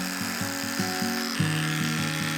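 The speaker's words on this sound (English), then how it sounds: "When I shave this type of hair, I must be patient and careful." Electric clippers shave a dog's matted fur, giving a close, steady motor buzz whose pitch dips briefly in an uneven, pulsing rhythm as the blades work through the tangles.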